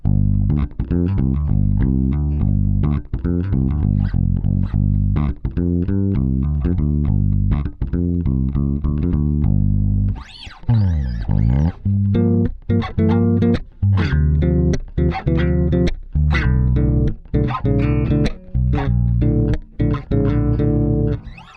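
An electric bass, heavily compressed, plays a steady, even riff of plucked notes with consistent punchy volume, a brief rumbling slide midway, close and alone without voices.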